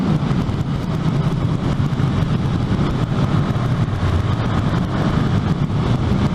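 A KTM motorcycle engine drones at speed in sixth gear, a loud, dense, continuous roar mixed with rushing wind noise, steady throughout with no voices.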